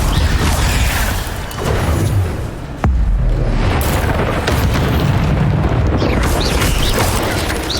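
Fire spell cast with a wand in the Hogwarts Legacy video game during a battle against spiders, a loud booming blast with a crackling burst, then a second heavy impact under steady rumbling game sound.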